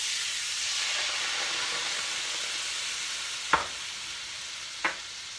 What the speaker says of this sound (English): Then I'm going to add the Marsala, again,